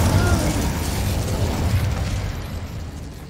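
Incendio fire spell cast in Hogwarts Legacy, a dense roaring whoosh of flame with low rumble, loud and sustained for a few seconds before easing slightly.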